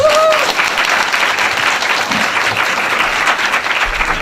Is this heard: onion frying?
no